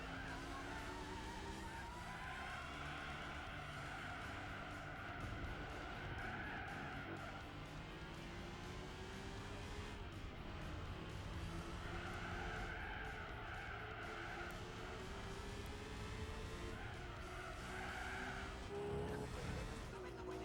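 Racing cars in Gran Turismo 4 at Motorland reverse, with Honda Integras and an NSX on track: continuous loud engine drone with rising and falling tire squeal and skidding across the whole stretch.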